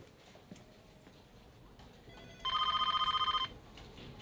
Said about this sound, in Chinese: 电话在响